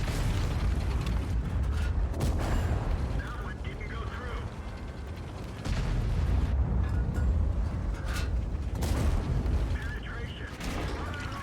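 Tank cannons fire in a tank battle game, with heavy booming shots and mechanical clanks over a steady engine rumble, while someone talks intermittently over the action.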